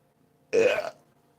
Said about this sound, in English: 2 seconds later, you just hear a loud, thunderous burp